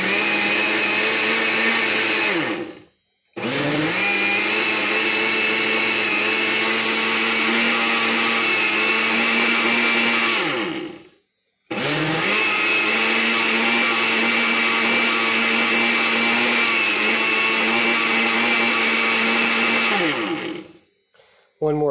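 A kitchen blender whirs loudly through a smoothie on pulse, in three long steady bursts of motor roar separated by brief silent pauses, with no talking.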